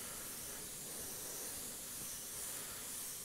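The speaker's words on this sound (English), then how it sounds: "I'm gradually moving away, but I'm also angling the airbrush" Airbrush spraying paint during shading, a steady soft airy hiss with fine spray noise that holds continuously and close throughout.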